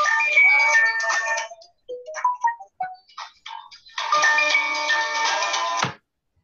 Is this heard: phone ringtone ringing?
yes